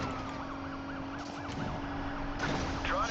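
Wailing police sirens in Need for Speed Payback rise and fall continuously over a steady engine hum, with a second siren joining near the end.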